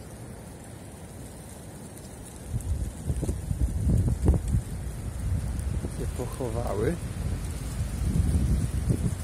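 Rain falls in a gusty windstorm as the sky darkens outdoors near a chapel, a rough, rumbling roar that swells partway through. A voice speaks briefly over it.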